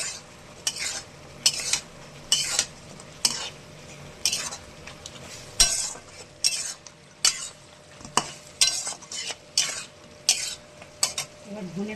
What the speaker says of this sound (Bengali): এই যে দেখুন তেল ছেড়ে গেছে। এবার মাছটা দিয়ে আমি কষাবো।